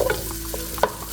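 Bacon and mushrooms sizzle in a pan while a utensil stirs them, a short burst of steady frying hiss punctuated by two distinct scraping clacks, close and clear with no talk.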